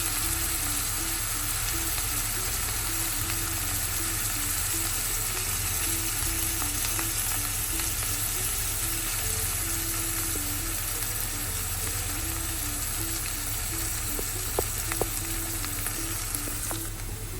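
Chicken fries in ghee in a pan, a continuous, even sizzle with faint stirring scrapes, close and steady throughout, with a low hum underneath and no voices.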